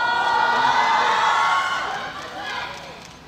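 An audience at a film festival talk at the Jeonju International Film Festival cheers loudly, a dense crowd roar that swells and then slowly fades, with voices mixed in.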